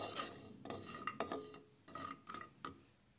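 Walnuts dry roasting in a pan are stirred with a spoon, giving irregular scraping and clattering strokes against the metal, close and fairly quiet, with no talk.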